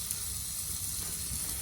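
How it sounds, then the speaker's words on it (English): Bacon sizzles in a pan at a duck-hunting camp, a steady, dense hiss and crackle that runs unbroken from start to finish, close and even, with no talk. "I'm cooking up some bacon in this skag hole."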